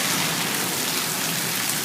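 Heavy rain pours steadily and evenly in a dense, continuous hiss, loud and close with no breaks and no voices over it.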